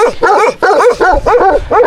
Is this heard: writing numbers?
no